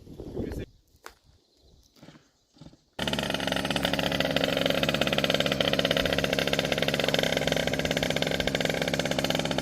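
A motorcycle engine idles in a game, a loud, steady mid-pitched drone that starts abruptly after a few seconds of quiet sounds and keeps a constant pulsing rumble to the end.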